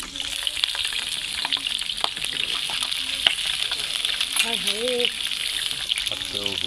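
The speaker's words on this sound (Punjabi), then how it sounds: "ਦਾਲ ਤੜਕਾ ਲਾਣਾ ਤੇ ਲਸਣ ਪਾ ਦਿੱਤਾ" Garlic sizzling in hot ghee for a dal tadka, a steady loud crackling hiss with occasional spoon stirs, running throughout; faint voices briefly in the background.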